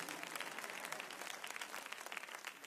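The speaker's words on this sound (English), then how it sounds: "You can clap just so it's not awkward for you." A church audience claps steadily throughout, soft and fairly distant, with no talking over it.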